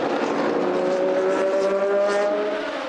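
Kessel Racing Ferrari race car at Portimão heard on board, a loud continuous high-revving engine howl with steady tonal whine and no speech.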